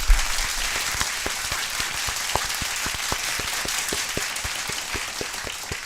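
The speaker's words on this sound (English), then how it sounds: "A round of applause to Uncle Chrome." Steady applause from a crowd during an MMA news show, dense clapping with a few sharper individual claps standing out, sustained at an even level for about six seconds.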